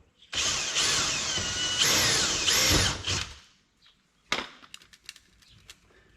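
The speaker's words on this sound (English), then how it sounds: "we're going to drill a hole up through here" A power drill whines loudly for about three seconds as it bores a 5/16 hole during a mud flap install on an XP 1000, followed by a few clanks and rattles of handling.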